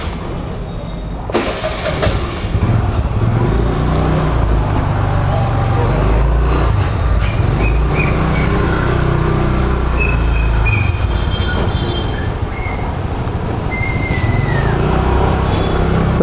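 A motorcycle fitted with a roof umbrella system rides along an Indian road, its engine droning loud and steady throughout, with a sharp start at the beginning and faint higher whines and passing traffic further in.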